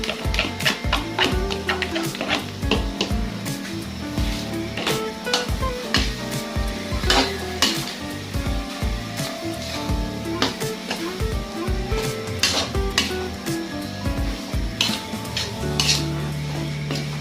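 A pan of bopis is stirred in quick repeated scrapes and clacks of a utensil against the metal pan, over a bubbling sizzle from the heat, close and fairly loud, with no speech.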